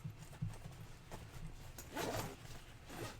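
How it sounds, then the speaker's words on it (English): A zipper is drawn shut along the main pouch of a modified Nerf blaster, giving a close, raspy burst of sliding teeth that builds in the middle and tapers off, over a low background hum. "when I close this, I can zipper up the main pouch"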